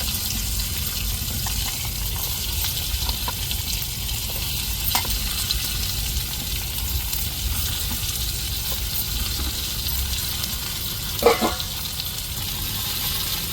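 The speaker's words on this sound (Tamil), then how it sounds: "இப்போ உப்பு மஞ்சப்பொடியெலாம் போட்டு அப்படியே தாளிப்பில் கத்திரிக்காயை அப்படியே வதக்கி விடுவோம்" Eggplant sautéing in a pan of tempering with salt and turmeric, a steady close sizzle running throughout with occasional stirring scrapes and no voices.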